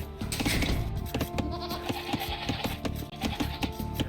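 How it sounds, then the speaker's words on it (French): Sheep bleating in a real-time strategy video game, several short bleats over a busy, dense game soundscape of clicks and chopping, with no one talking. "un petit mouton."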